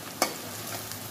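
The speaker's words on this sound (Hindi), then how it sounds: "प्याज हमारे पक रहे हैं, आहा क्या प्यारी खुशबू आ रही है प्याज की गरम मसाले के साथ" Onions fry with garam masala in a pan, giving a steady close sizzle with a single sharp scrape of a spoon stirring near the start.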